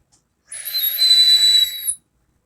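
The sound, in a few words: air whistling through Genesis RDTA atomizer airflow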